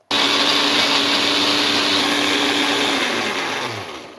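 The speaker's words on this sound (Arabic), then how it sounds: "يلا بقى نضرب في الخلاط دول" An electric blender mixing cake batter of milk and oil whirs loudly and steadily for several seconds, then its motor slows and winds down at the end.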